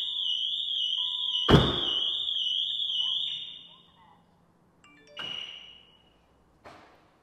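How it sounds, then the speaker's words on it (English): Nissan GTR car alarm sounding as a loud, warbling electronic siren tone that holds steady for about three seconds, broken by a sharp thud, then two shorter alarm bursts after a pause. "as you can see, the alarm's going off and the engine cut out instantly"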